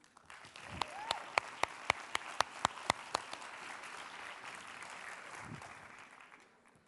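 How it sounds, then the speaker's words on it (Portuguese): Conference audience at a social media hackathon applauding a speaker onto the stage, a dense wash of clapping with one nearer pair of hands striking a steady rhythm, fading out after several seconds. "E eu convido-vos a receber com um forte aplauso a este palco"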